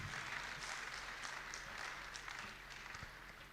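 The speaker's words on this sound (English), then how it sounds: "another round of applause for him." Applause from an audience at a university dental school alumni homecoming and fundraising event, a steady wash of many hands clapping throughout, fairly distant and even, fading slightly toward the end.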